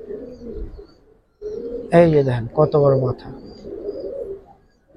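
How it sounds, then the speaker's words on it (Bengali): A white silver Giribaz pigeon gives a short, close coo while someone talks over it. "সাদা সিলভার একটা কবুতর দেখেন, কত বড় কবুতর মাশাআল্লাহ"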